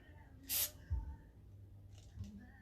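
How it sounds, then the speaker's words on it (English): A short aerosol hiss from a spray can used while baking sweet potato and peanut butter cookies, one brief burst near the start followed by quiet kitchen clatter. "clearly you got to keep doing a little spray"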